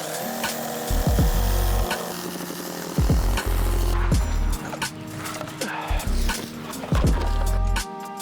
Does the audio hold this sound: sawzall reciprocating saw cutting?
yes